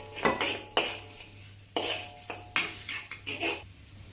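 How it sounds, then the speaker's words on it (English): Minced ginger and garlic sautéing in hot oil in a wok, with a spatula repeatedly clinking and scraping against the metal in sharp, uneven strokes over a faint sizzle. "Heat some oil in the wok. Saute the minced ginger and garlic until aromatic."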